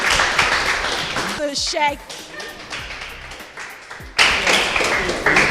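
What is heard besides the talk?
audience applause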